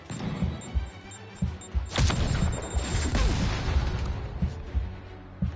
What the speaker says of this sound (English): I must be close because they're shooting at me.